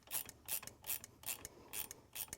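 Ratchet wrench tightening a new nut on the top mount of a car shock absorber, over a top bushing and washer; about seven quick bursts of clicking in a steady rhythm, close and fairly loud.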